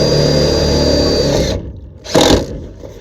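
Power driver whirring steadily as self-tapping screws go into Suntuf greenhouse roof panels, the motor running loud and close, then stopping briefly before a short second burst.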